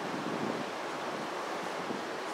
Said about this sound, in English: It's now windy and nice and cool.